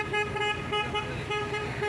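Car horns honk repeatedly in a street at Praça Marechal Eduardo Gomes, steady overlapping blasts of toots from several vehicles, loud and close over traffic rumble.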